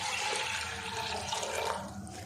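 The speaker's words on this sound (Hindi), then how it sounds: "अब इसमें 4 कप पानी में डाल देती हूँ" Water pours steadily into a pressure cooker holding soaked mixed dal, a continuous close splashing rush that runs unbroken for a couple of seconds with no talk over it.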